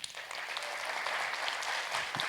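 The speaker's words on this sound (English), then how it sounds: "How about a round of applause for Michael Dees?" An audience at a jazz music intensive applauds a performer, a bright, even crowd clap spread across many hands, sustained and fairly close for a couple of seconds.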